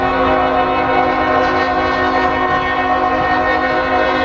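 A Norfolk Southern northbound grain train passes in Marion, Ohio, its horn sounding as a loud, sustained, steady blast over a continuous rumble of rolling wagons.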